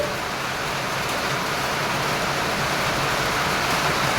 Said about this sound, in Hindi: भगवान की कृपा से आज अच्छी तेज बारिश प्रारंभ है